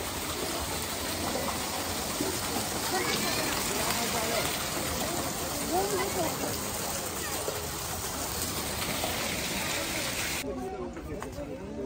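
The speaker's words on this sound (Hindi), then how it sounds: "यहाँ पे पानी का झरना है" Water from a fountain or waterfall in the tulip garden at Srinagar rushes steadily as a broad, continuous hiss, with voices talking faintly underneath.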